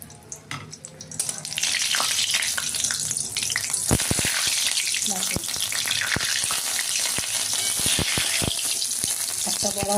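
Egg batter fritters fry in oil in a kadai, a loud, continuous crackling sizzle that swells after the first second, dotted with sharp utensil clicks.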